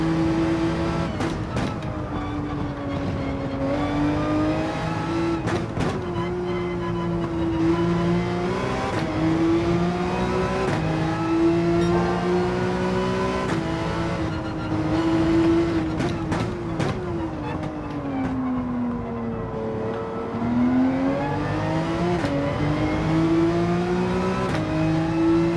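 A race car engine in Gran Turismo 7 revs loudly and continuously through a lap, pitch rising and falling with gear shifts and throttle, a steady in-game roar with faint talk mixed in.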